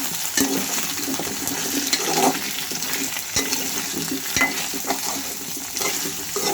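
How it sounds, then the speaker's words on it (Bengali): Pumpkin and potato frying with greens (Malabar spinach) in a pan, a steady broadband sizzle with intermittent scraping stirs and clicks of a utensil against the pan, close and fairly loud throughout. "কুমড়া আর আলু দিয়ে দিব"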